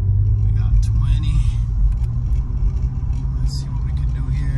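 A 2007 Acura TL with 200K miles pulls away in steady acceleration, its low engine rumble and road noise filling the cabin continuously while someone talks over it.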